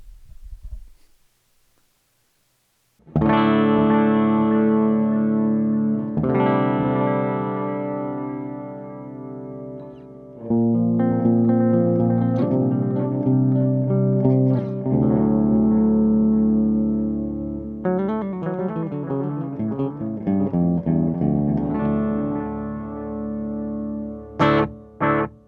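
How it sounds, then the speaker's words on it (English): Electric guitar run through the delay effect of a Donner Triple Threat multi-effects pedal: a brief silence, then sustained chords and notes ring out with repeating echoes trailing behind, loud and clear with no talking. "So right off the bat, that's a pretty solid delay."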